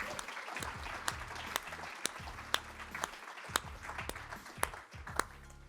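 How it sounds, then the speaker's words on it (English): A small live audience applauds after a business discussion, a steady patter of claps with several louder individual claps standing out, moderately close and fairly quiet, with a few brief voices mixed in. "Round of applause for that."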